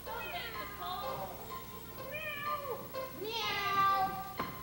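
A stage actor in a school production of Seven Brides for Seven Brothers imitates a cat with a few drawn-out, wavering vocal meows, one after another, close and fairly loud, with voices around it.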